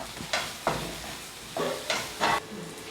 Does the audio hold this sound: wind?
no